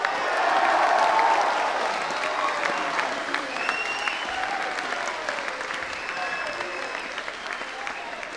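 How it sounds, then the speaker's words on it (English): A school house music concert audience cheers and applauds, loud dense clapping with whoops and shouts at first that gradually eases while still going. "can I please have a huge cheer for the families and friends who came to support our boys tonight?"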